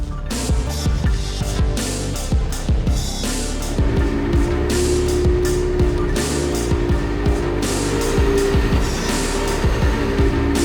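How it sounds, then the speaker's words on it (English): Ford Focus BTCC touring car running straight-line aerodynamic testing, its engine a loud steady drone with rising and shifting tones and rapid pulsing, close and continuous throughout without talk. "So we've come here today with the Focus touring car to do a little bit of sort of straight line testing, aerodynamic testing"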